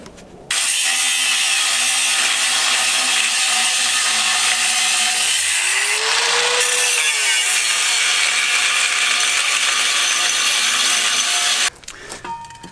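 A cut-off wheel grinds through a car's steel exhaust pipe with a harsh, steady, loud shriek. It runs almost unbroken for about eleven seconds and changes pitch briefly near the middle.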